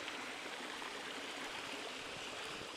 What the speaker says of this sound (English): Let's follow this stream down towards the river